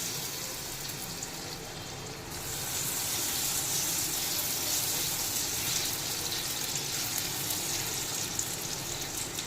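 Oats chilla batter with mixed vegetables hits a lightly oiled pan and sizzles, a broad hissing frying noise that grows louder after a couple of seconds and holds steady with no talking.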